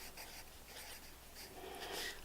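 A pen or pencil scratches across paper in short, quiet strokes, faint and close, with soft scraping bursts and no talk.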